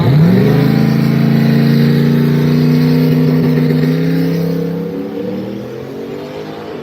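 A small tire drag racing car launches at a Street Outlaws No Prep Kings event at Rockingham, giving a loud, close engine roar that rises in pitch as it accelerates away down the strip, then fades slightly.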